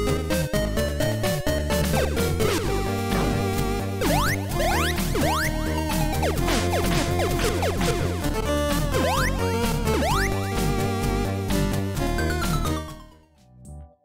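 Sunsoft NES video game music plays continuously: bright chiptune square-wave melody with fast arpeggios over a steady bass line, loud and unbroken before a quick fade at the end.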